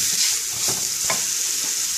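Vegetables seasoned with salt and pepper being stirred in a hot pan for shakshuka: a continuous close sizzle with a few soft spatula scrapes, no talking.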